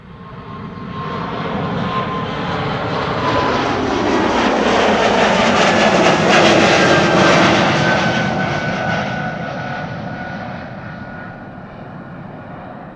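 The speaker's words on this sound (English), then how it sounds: "here we have Air Baltic Flight 962 to Vilnius. That's a Bombardier C-Series 300" An Air Baltic Bombardier C-Series 300 jet departs in sunshine, its engine roar building to a loud broad peak midway through and then slowly fading, with no voices.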